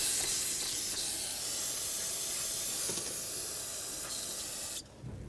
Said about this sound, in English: Let's spray this mess down.